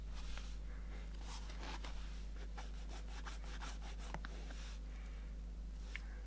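Conditioner is rubbed by hand into dry, worn leather Prada boots, producing close, irregular rubbing and scuffing strokes in a quiet room with a low constant hum underneath and no speech.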